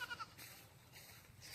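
A village goat bleats faintly in a few short, quiet calls during the rainy season, heard against soft background noise.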